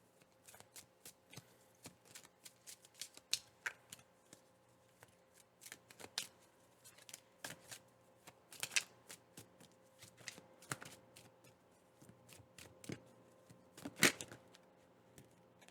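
Tarot cards being shuffled by hand, a long run of quick riffling and sliding bursts that recur every second or so, close and fairly quiet with no voices over them.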